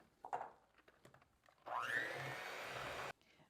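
Clotted cream mixed with powdered sugar by an electric mixer, which whirs loudly and steadily for over a second after a few soft knocks and scrapes of preparation.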